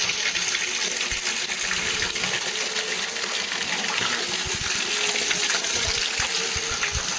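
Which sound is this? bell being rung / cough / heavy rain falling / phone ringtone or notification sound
heavy rain falling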